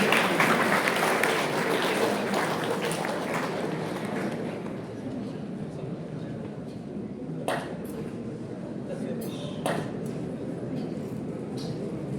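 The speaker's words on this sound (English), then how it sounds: "Let's give a round of applause for him." At a GDG Madurai DevFest community tech event, an audience applauds for a speaker, a dense wash of clapping that thins and softens over several seconds, with a few sharp claps standing out later.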